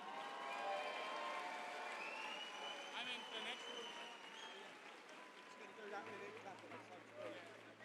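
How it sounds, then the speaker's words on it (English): Applause from a crowd at a boxing fight night, faint and distant beneath a ring announcer's amplified voice, steady clapping running under the talk throughout. "A round of applause for the brave, gallant and talented Ruth Huntley."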